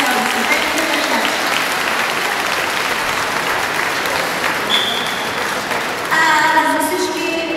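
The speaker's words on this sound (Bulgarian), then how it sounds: "Аплодисменти от всички гостите." Audience at a dolphin show at the Varna dolphinarium in Bulgaria breaks into sustained, dense applause that fills the whole stretch, swelling slightly near the end, with a brief high whistle-like tone partway through.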